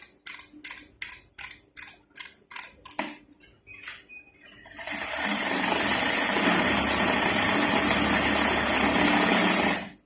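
Sewing machine winding thread onto a bobbin that fills only on one side: a run of rapid mechanical clicks gives way to a loud, steady high whir for the remaining seconds.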